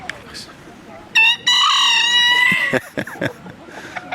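A rooster kept with Ayam Cemani and other breeds lets out a loud, close crow of two broken bursts, a short one followed by a longer drawn-out call, with a person talking briefly before and after.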